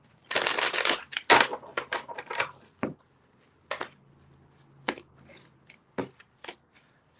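Tarot cards being shuffled by hand in quick, crisp riffling bursts, with a dense flurry at first and then sparser separate flicks and taps, close and fairly quiet.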